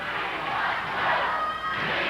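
A wrestling arena crowd chants for Joe, a loud, rhythmic, massed chorus of voices echoing through the hall, steady throughout.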